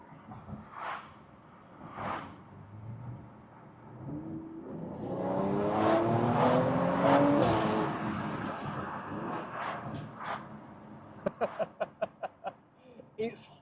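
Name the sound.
Mercedes C43 AMG Stage 2 accelerating hard in second gear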